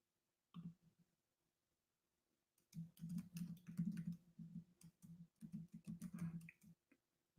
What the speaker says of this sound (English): I'm typing something here